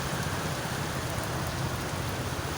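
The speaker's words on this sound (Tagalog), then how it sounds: "Ayan guys, patuloy yung ulan guys." Steady heavy rain pours down in a continuous dense hiss, constant and loud throughout with no voices.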